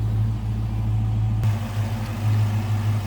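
A 1991 Ford Mustang LX convertible idles with a deep, steady low rumble and a slight lope, heard up close with no one talking.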